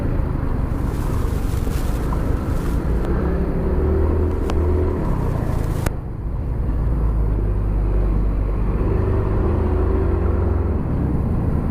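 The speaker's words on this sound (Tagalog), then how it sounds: "Traffic mga idol." Main-road traffic recorded from a moving vehicle, a heavy low rumble of engines and tyres with passing vehicles whirring by. A brief dip near six seconds breaks the steady, loud drone, and no one talks.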